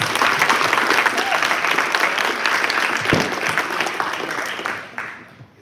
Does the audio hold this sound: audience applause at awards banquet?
yes